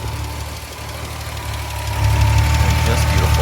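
Rebuilt 2.5L engine of a 1974 Triumph TR6 with ported head and triple Weber carburettors running close by, a steady idle that swells into a louder, deeper rumble partway through.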